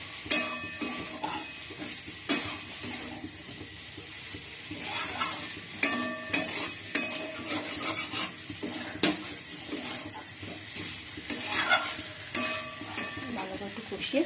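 Egg curry is stirred and fried in a pan, with a low sizzle throughout and repeated scraping and clinking from a spoon against the metal.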